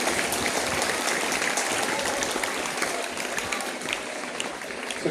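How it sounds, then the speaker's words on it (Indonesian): Crowd applause for the officers of a Scout Day flag-raising ceremony, a steady dense clapping that holds loud and continuous throughout, tapering only slightly toward the end. "Kita kasih aplaus."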